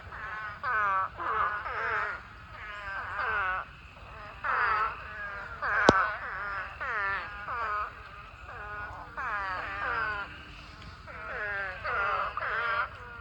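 Many toads call from a pond in overlapping, nasal, bleating cries that come in repeated bursts, loud and close, with a single sharp click midway.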